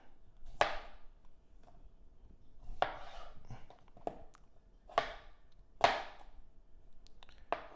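Red potatoes being cut on a board with a knife, five or six sharp chopping strikes spaced irregularly, close and fairly loud over a quiet kitchen background.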